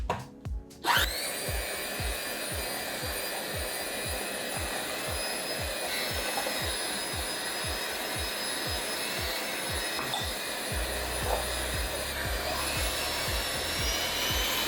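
Electric mixer working flour into cookie dough, a steady motorized whir with a rapid rhythmic thumping of the beaters through the dough, running continuously and close with no talk.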